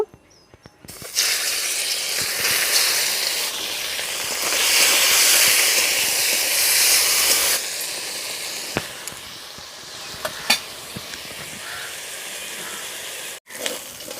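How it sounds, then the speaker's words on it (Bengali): Chicken pieces frying in hot white oil in a wok, a loud continuous hiss and sizzle that later settles to quieter spitting with scattered crackles. "তেল গরম হয়ে গেছে এবার চিকেনগুলো ভেজে নেব"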